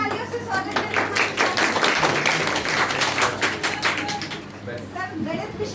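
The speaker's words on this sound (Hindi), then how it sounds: "तो जोरदार तालियों से स्वागत करें" A classroom audience claps to welcome a mathematics teacher, a steady, fairly close burst of many hands that fades slightly toward the end, with voices talking over it.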